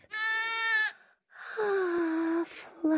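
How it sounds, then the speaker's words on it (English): A cartoon sheep in a children's educational show gives two clear, wavering bleats, close and alone. "Sheep."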